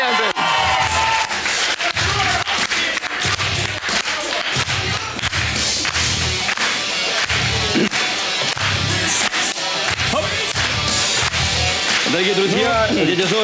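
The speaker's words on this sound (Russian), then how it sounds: "ваши аплодисменты" Audience applause and cheering for a guest invited on stage during a comedy duo's show: loud, continuous crowd clapping and shouting with rhythmic rushes, close and sustained throughout.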